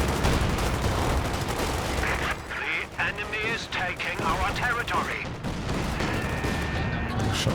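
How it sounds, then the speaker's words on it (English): A Jackson tank destroyer fires long-range shots during a 2v2 match of the video game Company of Heroes 2, mixed with other battlefield gunfire and artillery booms. A commentator talks over the sustained, heavy fighting. "Shots in there long range from the Jackson"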